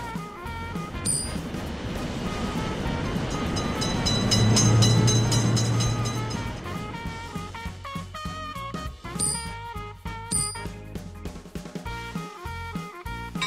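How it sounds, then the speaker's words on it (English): A passing train in a railroad crossing simulator game builds to a heavy rumble and recedes, its rattle mixed with continuous background music throughout. "Train is in sight."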